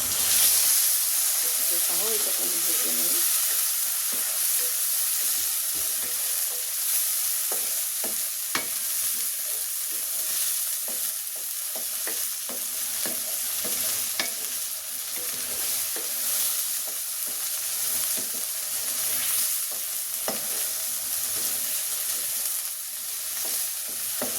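Shrimp and onions sizzle steadily in a hot pan with taro leaves, with occasional scraping and stirring clicks, close and continuous throughout with no talking.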